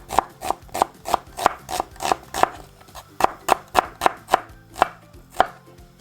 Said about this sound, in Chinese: 洋葱，首先切一半。 我们现在要切成条状也是，所以我们这个会把它切掉，把它切成条状。